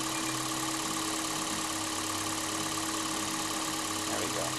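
A Toyota Prius engine idles with a steady, low hum, with a faint mechanical rattle and no voices over it.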